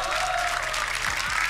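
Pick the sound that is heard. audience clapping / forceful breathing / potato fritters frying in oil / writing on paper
audience clapping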